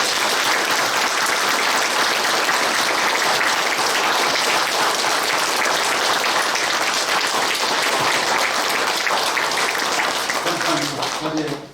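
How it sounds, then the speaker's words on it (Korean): A congregation at a church ceremony for a pastor's installation claps loudly and continuously, a dense wash of applause that tapers off at the end as a voice starts to speak. "우리의 뜨거운 격려와 축복의 박수를 하나님께 그리고 목사님께 올려드립시다."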